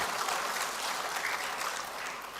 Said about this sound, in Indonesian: Tepuk tangan dulu untuk para pemuda.